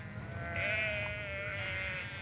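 A single sheep bleats in one sustained wavering call over a low, steady background rumble, heard alone at moderate distance.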